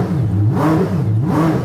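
A Koenigsegg Jesko Absolut engine blipped up and down in quick throttle stabs, its loud revving tone rising and falling twice in under two seconds, close by and with no talk over it.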